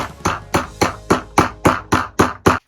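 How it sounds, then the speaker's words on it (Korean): Rubber mallet tapping furniture parts together while assembling a tiled table in a small room: nine evenly spaced, sharp knocks, close and loud, about three per second. "다음에 고무망치로"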